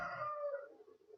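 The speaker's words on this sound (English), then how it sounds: "my rooster in the background." A backyard rooster crows in the background, one drawn-out call that starts strong and trails off over about a second, with no talk over it.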